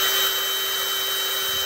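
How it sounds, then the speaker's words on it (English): A power drill bores a hole through a bottle cap, giving a steady, unbroken whine with a high tonal edge for under two seconds, with no talk. "take your drill, and you drill a hole in your cap"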